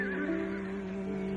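A horse gives a short, steady whinny that carries as one sustained tone, fairly quiet and alone, with no voices over it.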